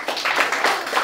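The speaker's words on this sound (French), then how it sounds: "Encore les applaudissements, s'il vous plaît." An audience claps together, a brief burst of dense, rippling applause heard fairly close and loud, rising in short pulses without speech.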